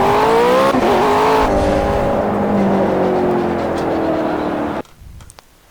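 Race car lapping the Le Mans circuit in Project CARS: a loud, whining engine that climbs and dips with gear changes and tire noise, then drops away abruptly near the end.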